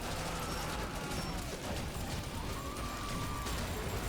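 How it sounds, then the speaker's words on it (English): Chemical explosions chain-reacting in the video game Yet Another Zombie Survivors, a loud, dense, unbroken barrage of overlapping blasts and crackling bursts that fills the whole stretch. "The chemical explosions."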